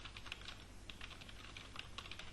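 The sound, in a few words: typing on a computer keyboard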